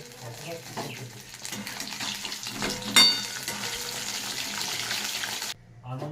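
Spinach and green chillies cook in a pan with a steady watery sizzle, punctuated by occasional stirring clatter, before the sound drops away near the end.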